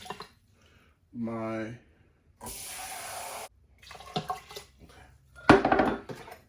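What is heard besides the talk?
pouring water onto brown rice in an Instant Pot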